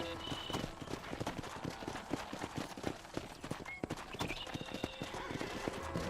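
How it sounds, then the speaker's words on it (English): Horse hooves clip-clop steadily through a Red Dead Redemption game scene, with a horse whinnying partway, all set against dense ambient game sound and loud throughout. "Go on. Hit your horse and wait for me by the stable."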